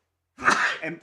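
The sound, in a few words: sneeze in a courtroom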